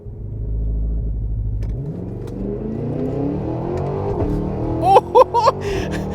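A 2023 Cadillac Escalade V-Series engine pulls hard from a standstill, a deep rising roar climbing through the revs, then sharp gear-change pops and burbles near the end, loud from inside the cabin.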